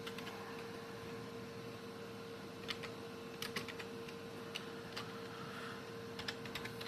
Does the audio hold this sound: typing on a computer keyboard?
yes